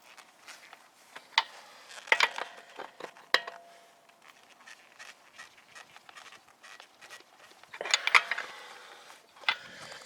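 A wrench loosens wheel lug nuts while a flat tire is changed for a spare, producing scattered metallic clicks and sharp clanks with quieter rustling between them.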